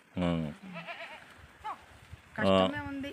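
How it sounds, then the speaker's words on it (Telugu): Goats in a herd of about forty, kept on hilly scrubland, bleat loudly in two long wavering calls with fainter bleats between, close to the listener. "నలభై మేకలు ఉన్నాయి"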